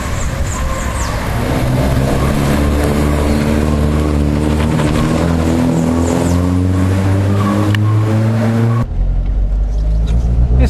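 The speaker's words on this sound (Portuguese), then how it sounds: "E o mais legal é você acelerar o carro e ouvir os Delorto trabalhando." A 1974 Alfa Romeo Spider with Dellorto carburetors revs loudly and steadily close by, its engine note holding and shifting over several seconds before a brief drop and a renewed rev.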